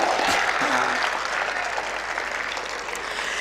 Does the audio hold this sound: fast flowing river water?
no